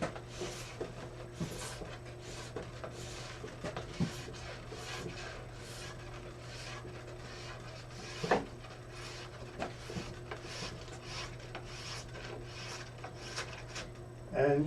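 Glide wax is rubbed onto a skating ski in repeated strokes, a steady close scraping and rubbing rasp with a rhythmic back-and-forth pattern over a faint low hum.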